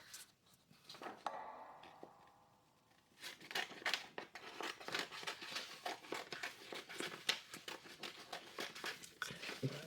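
Scissors snip out paper roses for handmade tags, producing a long run of rapid, close crinkly cuts with paper rustling between them.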